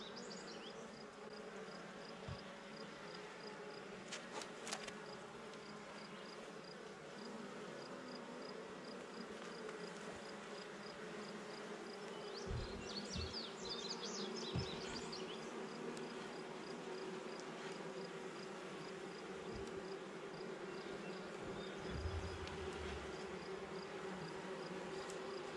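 Honey bees hum steadily around an open hive as a beekeeper moves a split into a deep hive body, a soft continuous drone with a few louder passes of individual bees close by.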